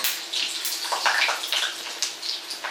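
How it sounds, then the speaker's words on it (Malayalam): A kitchen tap runs in a steady splashing stream, close and fairly loud, with water spattering unevenly into a sink. "വെള്ളം"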